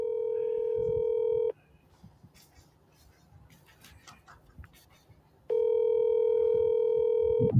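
A telephone call rings out with two long, steady electronic ringing tones separated by a pause of faint line noise, loud and clear on the line.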